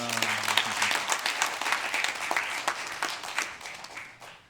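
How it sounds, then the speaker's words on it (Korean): A church congregation applauds during a Korean Sunday worship service, a dense burst of many hands clapping that swells and then gradually thins out, with a voice briefly audible at the start. "우리 다시 한번 박수하겠습니다."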